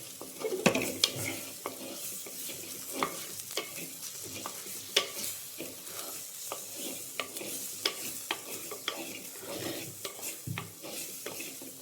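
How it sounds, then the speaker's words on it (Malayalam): Spoon stirring coriander powder and spices as they fry in a pan, giving repeated sharp scrapes and clinks over a soft sizzling hiss, close and fairly quiet, no voices. "1 സ്പൂണ് മല്ലിപ്പൊടി, ഇത്രയും ചേർത്തിട്ട് നന്നായി ഒന്ന് ഇളക്കാം."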